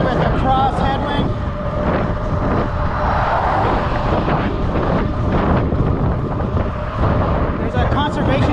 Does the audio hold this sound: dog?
no